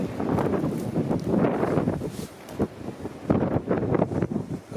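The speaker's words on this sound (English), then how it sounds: "The wind has picked up again" Strong wind on Dartmoor moorland roars and buffets against the microphone in loud, continuous gusts, with a brief easing before the blustery rumble surges back up.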